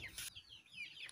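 Hungry backyard chickens cluck and chirp in quick, overlapping calls at morning feeding time in a village, close by and fairly loud.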